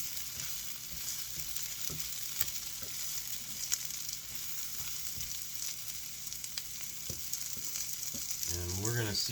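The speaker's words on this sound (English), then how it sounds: "we're gonna let this saute for about a minute or two" Onions for a Philly cheesesteak sautéing in a pan, a continuous close crackling sizzle with scattered pops and utensil taps, a faint voice rising only at the very end.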